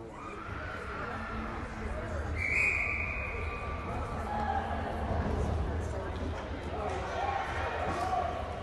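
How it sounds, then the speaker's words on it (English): A referee's whistle ending a timeout at a U16A youth game, one short sharp blast near the middle over arena crowd murmur and people talking. "So that is the whistle to finish off the timeout"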